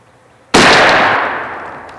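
A Stevens Model 301 .410 shotgun loaded with TSS shot fires once outdoors, a single sharp, loud blast that decays over about a second and a half.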